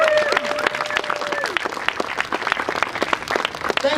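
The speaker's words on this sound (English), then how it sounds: "Ladies and gentlemen, a round of applause for Aosis," Audience applause at a climate conference ceremony, dense continuous clapping from a crowd, close and loud, with a brief voice audible early on.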